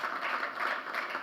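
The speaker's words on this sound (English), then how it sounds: "Another round of applause for her." Audience applause at an economics policy conference session, a steady wash of many hands clapping at moderate distance with no talking over it.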